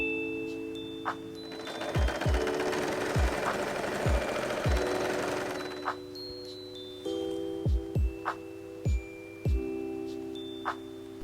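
Sewing machine stitching around the fabric edges of a big Christmas sailor bow, running in a loud sustained burst for several seconds amid sharp clicks and knocks, followed by scattered handling taps and short bursts.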